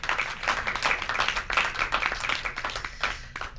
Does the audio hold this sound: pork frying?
no